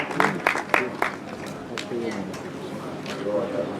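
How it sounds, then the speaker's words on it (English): A crowd claps through a round of applause at a grasstrack motorcycle racing prize presentation, with a few sharp bursts at first that settle into scattered clapping while someone talks over a PA. "a big round of applause for Ken Kensington"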